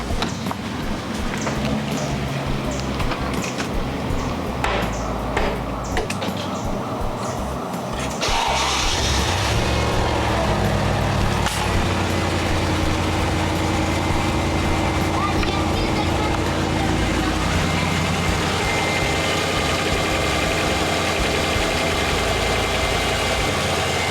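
Car engine idles and runs right after being refilled with nine quarts of oil, a steady broadband rumble that grows louder partway through and then holds constant, heard alone.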